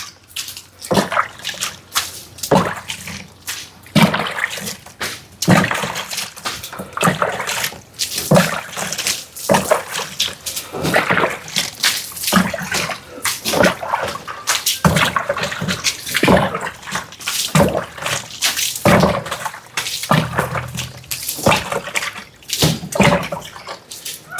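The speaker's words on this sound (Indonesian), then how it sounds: "Jadi sampai habis airnya dimandikan." Flower water is poured over a vehicle in a ritual bath, with repeated close splashes and gushing pours coming in uneven bursts, each drenching wash followed by dripping and trickling before the next.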